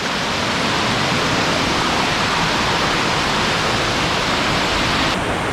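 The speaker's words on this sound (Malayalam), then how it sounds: "വളരെ മനോഹരമായ ഒരു വെള്ളച്ചാട്ടമാണ്" A small rocky waterfall runs in a steady, close roar of falling water, broad and unbroken, with no voices heard.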